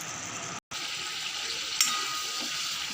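Fried potatoes hitting a spiced Bengali tengra fish curry set off a steady, close sizzle of hot oil that runs the whole time, broken once by a short gap and a brief splash partway through.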